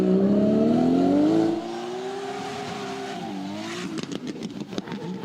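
A loud drift car engine roars with a falling pitch, easing off into a rough idle before sharp popping and crackling bursts from the exhaust, at a drift competition.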